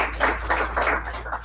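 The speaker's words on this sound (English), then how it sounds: "And thank you so much for clapping." Club members at a Toastmasters meeting give a short round of applause, a soft, even patter of many hands clapping in a room, moderately distant and without talk over it.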